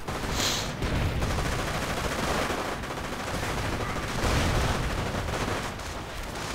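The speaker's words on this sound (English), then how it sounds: "More shots flying." Video game battle with rifle and machine-gun fire, a dense, fairly loud stream of overlapping shots and distant bursts continuing throughout without any talking.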